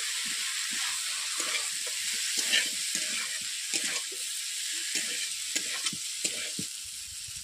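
Pre-fried yam and potato pieces with soybeans sizzling steadily in a pan, a constant hiss with recurring stirring scrapes, close and moderately loud with no voices.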